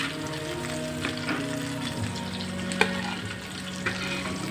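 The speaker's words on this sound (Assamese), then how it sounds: "এয়া মোৰ মাছকেইটা ভজা হৈ গ'ল" Fish sizzles in hot mustard oil in a pan on a gas stove, a steady close crackle with faint stirring scrapes and no talking.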